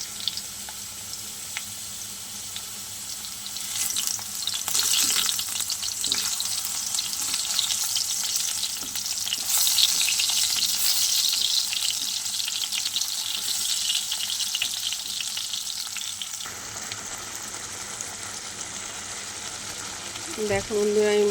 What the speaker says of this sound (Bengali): তোমার এখানে আলুটা আমি ভেজে নিচ্ছি বন্ধুরা।